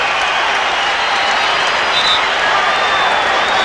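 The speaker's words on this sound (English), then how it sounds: "the crowd up applauding the aggressive play of Cleveland" A big crowd at a 1993 NBA playoff game between the Bulls and Cavaliers in Cleveland applauds and cheers in a steady, dense roar with no break.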